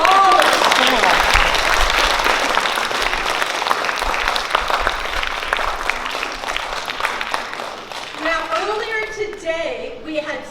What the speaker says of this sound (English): So let's give a round of applause to all of the students.